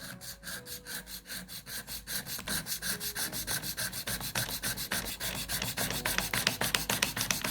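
A hand file rasping across a central facet of a workpiece, close and steady, in even back-and-forth strokes about twice per second that grow a little quicker and louder toward the end, with no talking.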